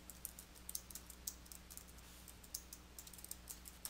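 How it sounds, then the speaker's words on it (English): Quiet, rapid clicks of keys being typed on a computer keyboard, an irregular patter of soft taps with no voices. "Click at the point where you want to begin typing and then type your text."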